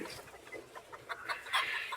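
Several chickens cluck and murmur close by in a busy, overlapping chatter, with a few brighter calls rising near the end.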